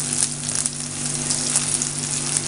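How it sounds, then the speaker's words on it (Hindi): Okra fries in a pan with turmeric powder and leftover pickle masala, giving a continuous close sizzle and crackle with light stirring and no voices. "इसमें शामिल करूँ थोड़ा सा फ्राई करेंगे और इसको हम फ्राई करेंगे"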